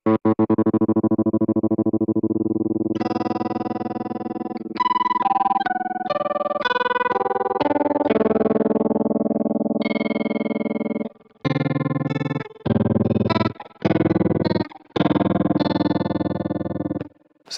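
An electric guitar runs through a TC Electronic Pipeline Tap Tremolo pedal set very fast, notes and chords chopped into a rapid, fluttering pulse, loud and alone with brief pauses between phrases.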